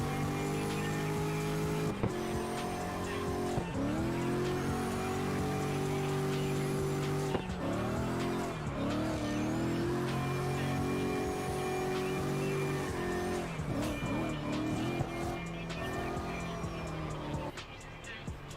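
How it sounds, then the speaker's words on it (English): A car drifts in the CarX video game, its engine wailing with rising and falling revs in long sweeping pulls, loud and continuous, with brief breaks between gear shifts and slides. "I feel like that was a solid drift"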